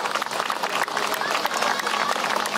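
An outdoor audience at a Constitutional Democratic Party street speech in Japan claps continuously, a dense, crackling burst of applause with voices mixed in.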